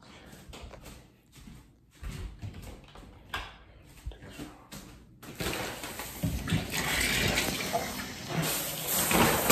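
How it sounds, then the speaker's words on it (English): Shower water switches on partway through and runs as a steady, close, full hissing rush, after a quieter first half of scattered movement and handling noises. "I'm getting in the shower."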